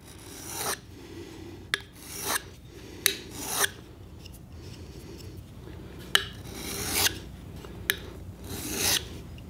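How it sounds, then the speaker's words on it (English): A wood chisel drawn across a sharpening block, roughly a dozen close, raspy strokes in an uneven rhythm, each ending with a sharp scrape or tick. "take this sharpening block that I've got"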